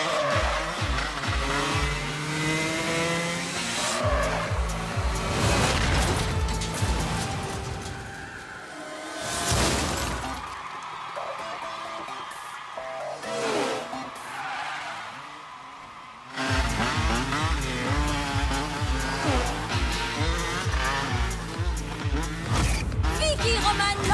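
Cartoon race cars in a LEGO Friends animated race roar past with engine whine and tire squeal over a music bed, dropping out briefly mid-race before the racing noise returns loud and steady.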